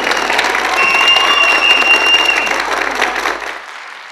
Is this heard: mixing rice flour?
no